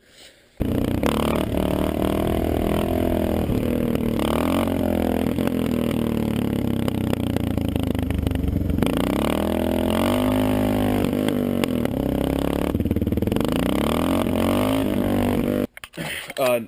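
A Suzuki DR650 motorcycle fitted with a TM40 pumper carburetor accelerates hard through the gears, a steady loud engine roar rising and falling in pitch with shifts, close by, then cutting off briefly near the end.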